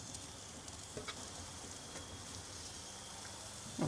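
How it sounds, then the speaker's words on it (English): Onions and peppers sizzling over high heat on a Weber Q grill, a faint steady crackle and hiss with a soft clatter near the end. "we're just going to add these vegetables to the grill on high heat"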